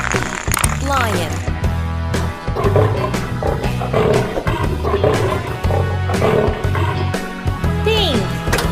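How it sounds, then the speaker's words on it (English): A lion roars repeatedly and loudly over a backdrop of children's educational music, with a voice speaking over the roars. "Lion."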